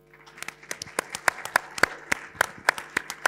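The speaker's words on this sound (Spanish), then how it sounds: "le damos un aplauso" Applause at a municipal community talk, close and fairly loud, starting scattered and settling into a rhythmic run of crisp claps from a modest group, with no speech over it.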